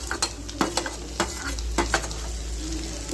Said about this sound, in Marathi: आता आपण टाकणार आहे टोमॅटो